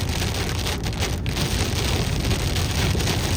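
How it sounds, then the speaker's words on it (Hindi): Heavy rain with large drops pours down steadily in the mountains of Taif, Saudi Arabia, a dense, constant hiss and patter with no pauses. "बारिश के छींटे पड़े और इसकी जो बूंदें हैं काफ़ी बड़ी बड़ी हैं"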